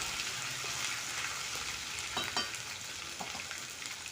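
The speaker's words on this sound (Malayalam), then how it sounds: "ഇതെല്ലാം കൂടി ആ വെളിച്ചെണ്ണയിലൊന്ന് മൂപ്പിച്ചെടുക്കട്ടോ" Ginger garlic paste fries in coconut oil with a steady close sizzle and crackle, broken by a couple of soft stirring scrapes midway.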